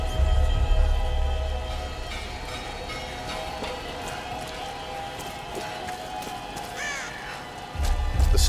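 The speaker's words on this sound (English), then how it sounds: "crows are the birds with the least annoying call sound" Crows caw in the video game Tomb Raider (2013): a few scattered calls sit over a steady, faint ambient bed, with a low rumble at the start and end.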